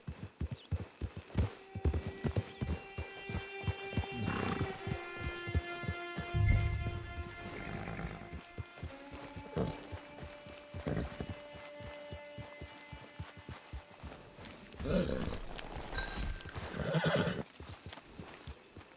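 A horse in a video game clip-clops along at a steady walk, its hooves close and rhythmic, with a couple of whinnies and a soft rain-like patter in the background; no one talks.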